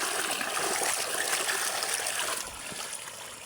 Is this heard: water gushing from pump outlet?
yes